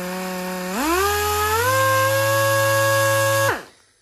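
A small, light variable-speed electric sander whirs loudly up close on a wood edge, its pitch rising as it speeds up, holding steady, then winding down at the end.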